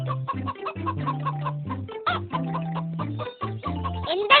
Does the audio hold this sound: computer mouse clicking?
no